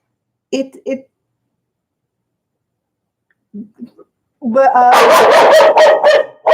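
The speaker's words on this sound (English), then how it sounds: "what are you barking at?" A dog barks close by in a few short bursts, then breaks into a long run of loud, rapid barking and yapping.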